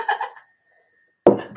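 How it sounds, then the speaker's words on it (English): Wind chimes struck by hand, two or three bright tinkling bursts at the start that fade into silence, then a sharper clattering strike near the end, close and clear with no talking. "let's call in spirit with a little bit of wind chime time."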